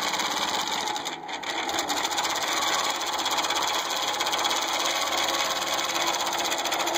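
A longarm quilting machine stitches steadily, a fast rhythmic mechanical whir and needle chatter running continuously up close, with a brief dip near the start.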